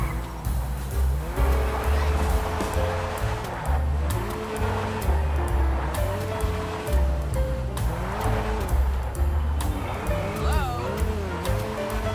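A drift-tuned Lada car is driven in the video game GTA V. The engine revs continuously and rises and falls in pitch, with intermittent tire squeals over a steady loud game soundtrack.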